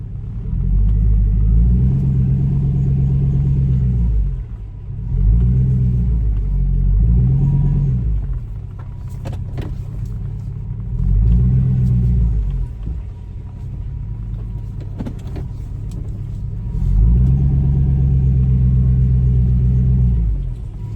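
A Chevy Tahoe's 5.3 LS V8 rumbles low and loud as the truck drives up and down a driveway, idling between several swelling bursts of revving.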